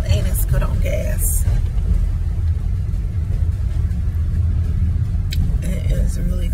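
A rented U-Haul truck drives along with a steady low engine rumble and road noise heard from inside the cab, continuous throughout, with a person talking over it.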